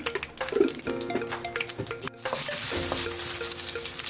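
Dried red chillies, cumin seeds and vadagam crackling and sizzling in hot oil for a sambar tempering, a busy close frying spatter with a brief stir partway through.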